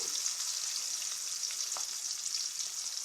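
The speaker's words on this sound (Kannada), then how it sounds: "ಈರುಳ್ಳಿ ಚೆನ್ನಾಗಿ ಫ್ರೈ ಆಗಲಿ" Onions frying in a pan with pieces of dried red chilli, a steady bright sizzle with occasional small pops, close and even throughout.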